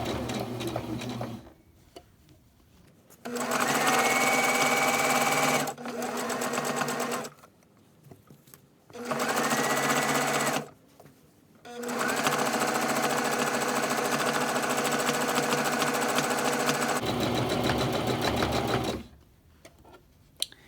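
A sewing machine runs in several loud, steady bursts separated by short pauses while back stitching the seam of a Christmas stocking, the needle hammering rapidly and evenly.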